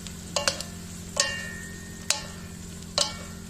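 Saç kavurma meat sizzling in a pan, a steady frying hiss broken by four sharp clanks of the utensil against the pan as it is stirred now and then.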